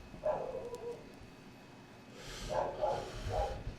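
A dog named Roddy barks outdoors at a passing Shih Tzu, one bark followed by a pause and then three quick barks, faint and somewhat distant over a low background rumble.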